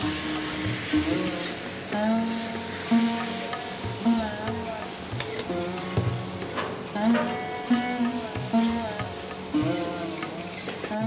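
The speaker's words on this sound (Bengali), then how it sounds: "দিয়ে খুব ভালো করে নেড়ে এটাকে কষতে হবে।" Ginger paste and fresh tomato paste masala being stirred and fried in a pan for prawn malaikari, with a steady sizzle and scraping of the stirring spoon under background music with a melodic line throughout.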